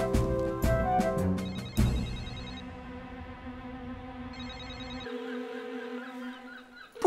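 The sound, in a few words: telephone ringing unanswered in Fireman Sam cartoon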